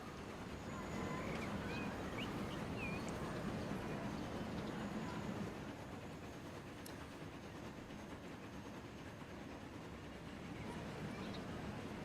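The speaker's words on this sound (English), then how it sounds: "Do I hear steam engine?" Steam engine train in the video game Transport Fever 2 rumbles faintly in the distance with a soft rolling rail noise and occasional light squeals, quiet and steady, without voices.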